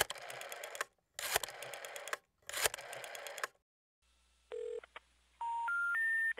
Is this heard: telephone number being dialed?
yes